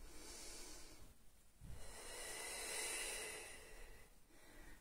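Slow, soft breaths in and out during a Pilates exercise, with a faint close hissing exhale swelling and fading in an unhurried rhythm and no talking.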